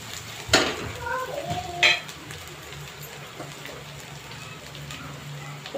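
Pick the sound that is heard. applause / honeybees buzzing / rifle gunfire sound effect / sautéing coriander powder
sautéing coriander powder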